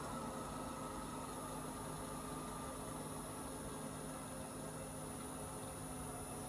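A wood lathe spins a burl for bowl turning at about 350 RPM, giving a steady, even motor hum with a faint high whine and no change across the stretch, close and constant.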